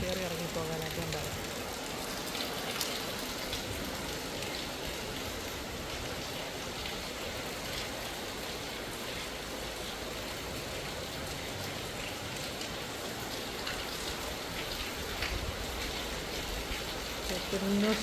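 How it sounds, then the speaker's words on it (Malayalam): Heavy monsoon rain pours down in Kerala, a dense, steady hiss of drops drumming on surfaces that stays loud and unbroken throughout, with no talk over it. "കേരളത്തിലെ അടിപൊളി ഇടിവെട്ടി മഴ"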